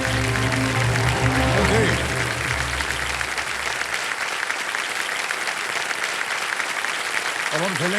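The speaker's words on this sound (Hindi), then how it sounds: "तालियां बजती रहें सबके लिए" Studio audience on the KBC game show applauds steadily for the full stretch, loud and dense, while a host speaks over the opening seconds with music fading beneath.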